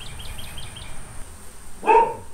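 A single dog bark rings out near the end, loud and fairly close, during bee hive removal after Hurricane Katrina, following quiet background chirps.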